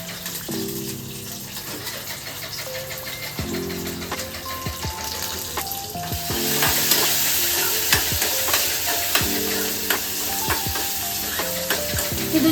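Garlic and salt frying in a pan for a cooking challenge, a steady sizzle and crackle that swells louder midway, with occasional stirring clinks and scrapes and no talking.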